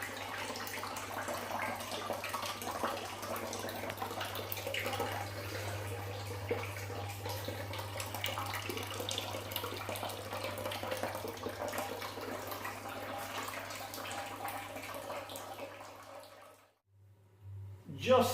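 Cold water from an outside supply runs through the Grainfather wort chiller while an IPA is brewed, making a steady rushing flow under a low hum and a person talking, then cutting off near the end.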